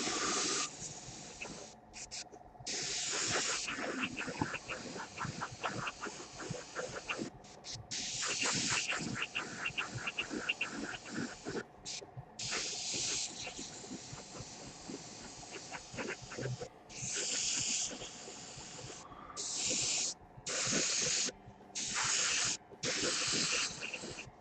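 Airbrush spraying paint onto Space Wolf miniature armour, a steady close hiss in long bursts broken by brief pauses between passes.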